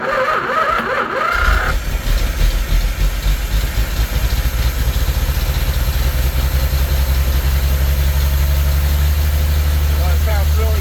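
A 1934 Chevy four-door sport sedan, unrun for 23 years, cranks and catches, then its engine idles and runs steadily with a loud, continuous low rumble up close, with people talking at first.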